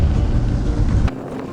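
Longboard wheels roll outdoors in a loud, close, rough rumble that cuts off abruptly after about a second, leaving quieter background noise.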